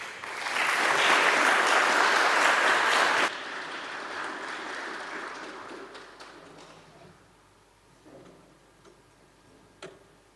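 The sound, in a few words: audience applause for soprano duo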